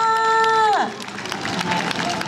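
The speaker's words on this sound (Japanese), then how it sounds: "どうぞ大きな拍手を。" A brass band's closing chord slides downward and breaks off, and a crowd's applause rises and holds in the hall of Odate Station in Akita, Japan, at its 120th-anniversary event after a set by the JR Akita branch brass band.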